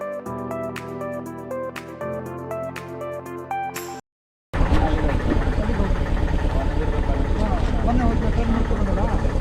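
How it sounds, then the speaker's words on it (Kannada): After a few seconds of music and a brief silence, a vehicle engine on a road near a forest waterfall takes over, a loud, close, steady pulsing rumble that lasts to the end. "ಕಾರ್ ನೋಡ್ರ, ಬೈಕ್ ನೋಡ್ರ ಹೆಂಗ್ ಬರ್ತೈತಲ್ಲ"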